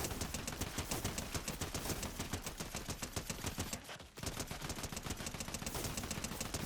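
Rapid, sustained automatic gunfire in Fortnite aimed at a boss, dense repeated shots running almost without pause, with one brief gap midway, loud and close with no talk.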